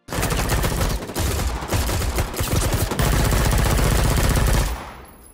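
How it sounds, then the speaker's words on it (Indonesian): Loud bursts of rapid automatic gunfire from soldiers in the film The Old Guard (2020) rattle on for several seconds with short breaks between volleys, then cut off abruptly. "sekelompok tentara memasuki ruangan dan melepaskan tembakan"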